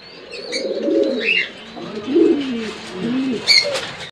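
Bombay pigeons coo in low, rolling phrases, close and fairly loud, with a few brief chirps breaking through.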